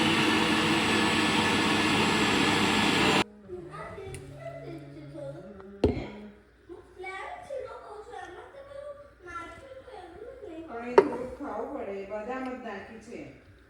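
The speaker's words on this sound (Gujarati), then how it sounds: "તો હવે મિક્સરમાં કરી દઈએ એટલે બનાના મિલ્કશેક રેડી." An electric mixer blending milk and banana into a milkshake whirs loudly and steadily for about three seconds, then cuts off abruptly, followed by people talking.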